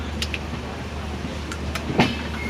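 Twin ALCO diesel locomotives haul the Ganga Sutlej Express near Ludhiana, heard from aboard the train as a low, steady engine drone. A few short clanks and a brief louder knock near the end sit over it.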